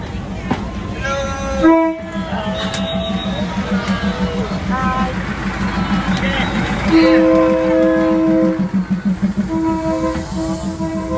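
A train rolls through a busy market, with rhythmic wheel clatter and repeated loud horn blasts close by, while people talk over the noise.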